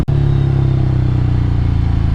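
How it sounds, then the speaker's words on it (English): A 2024 Ducati Scrambler motorcycle engine burbles while riding, a loud close low rumble with a fast pulsing throb and steady wind noise, starting right after a brief dropout. "Listen to that burble away."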